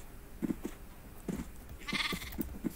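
Sheep in the Minecraft video game bleating in several short, close calls, with one longer bleat in the middle, against quiet background sound.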